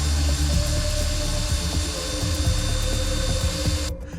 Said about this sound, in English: What I have got is my power drill with the flapper wheel